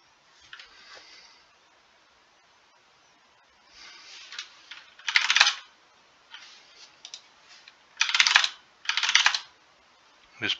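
Keystrokes on a computer keyboard in short bursts of rapid clicking, with brief pauses between groups, close and fairly quiet, no talking.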